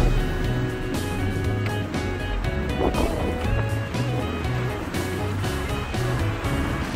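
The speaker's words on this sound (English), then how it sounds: "Check out the surf." Big ocean surf rolling in along Ali'i Drive in Kona, a constant broad roar of breaking waves mixed with wind buffeting and a low motor hum from a scooter, steady and loud throughout.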